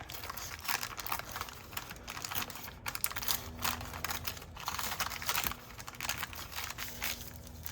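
Paper is torn and crinkled by hand in a busy stretch of rough, close rustling and ripping, broken by short pauses, with a faint hum underneath.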